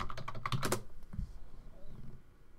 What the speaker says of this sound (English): So let me type in honeybees here.